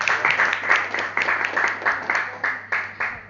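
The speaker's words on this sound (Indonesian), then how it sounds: "Tepuk tangan dulu dong." Audience applause at an agricultural fertilizer presentation session, a steady patter of many hands clapping with rhythmic swells, moderately loud and close, lasting about three seconds.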